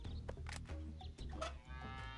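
A cow moos in the adventure game Deponia, a low drawn-out bellow set over steady game music and ambience, close and fairly loud for about two seconds.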